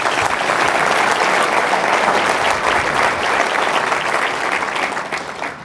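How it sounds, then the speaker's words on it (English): Sustained applause from an audience at the 2018 Chamber annual meeting, honoring the mayor; steady, dense clapping across the whole stretch, tapering slightly at the end. "Let's give him another round of applause."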